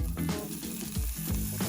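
Canned chickpeas sizzle in a tablespoon of onion frying oil, a steady crackling fry with soft stirring scrapes, close and moderately quiet with no talking.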